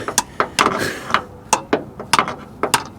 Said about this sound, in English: hammering it on